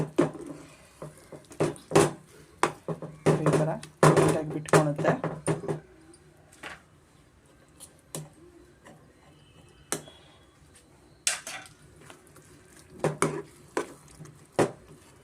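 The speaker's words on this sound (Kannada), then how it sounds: "ಸ್ವಲ್ಪ ತುಪ್ಪ ಹಾಕಿ ಚೆನ್ನಾಗಿ ನಾವು ಮಿಕ್ಸ್ ಮಾಡಿಕೊಡ್ಬೇಕಾಗತ್ತೆ" A spoon scrapes and taps against a pan while semolina is stirred with ghee for rave sajjige, irregular clinking strokes in bursts with quiet pauses between them, close by.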